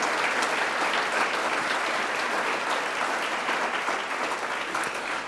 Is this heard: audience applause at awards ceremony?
yes